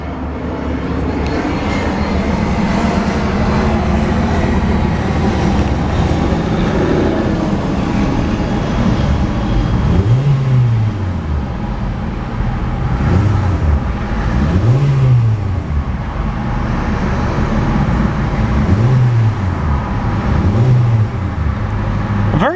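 The 1.6-liter four-cylinder engine of a 2014 Hyundai Accent GLS, breathing through a single exhaust outlet, drones loudly and steadily nearby, with several short rev blips that rise and fall in its second half.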